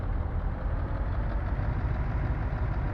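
A car engine idles with a steady low rumble, running roughly under poor handling by the driver on a road trip from Berlin toward Lublin, the drone continuous and close throughout.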